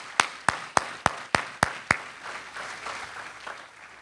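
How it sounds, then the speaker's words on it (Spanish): Congregation at a church service clapping together, seven sharp claps in a steady beat, followed by softer scattered clapping that trails away. "Let's give God a hand clap today."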